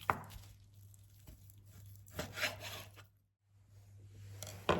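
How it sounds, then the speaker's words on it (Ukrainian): A knife works through chicken on a board in quiet, irregular slicing and scraping strokes, with a low electrical hum underneath and a brief silent pause. "Нарізаю курочку."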